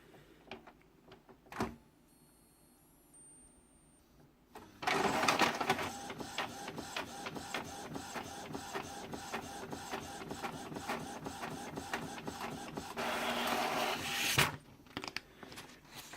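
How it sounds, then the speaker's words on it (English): An Epson XP-355 inkjet printer runs steadily with a whirring, chattering mechanism and rhythmic head passes, ending with a brief louder feed whir, close by. "Right, it's printing, and obviously you can see this printer is ready to print too"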